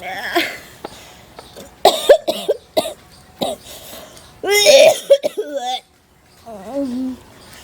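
Several sharp coughs in irregular bursts, close by, mixed with brief voiced sounds and a short stretch of quiet.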